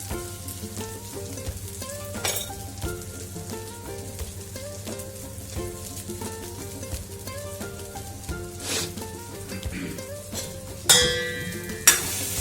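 Drumstick leaf vegetable with ambari masala and turmeric being sautéed in a pan, a continuous low sizzle broken by repeated spatula scrapes and clacks, growing louder in a few sharp knocks near the end.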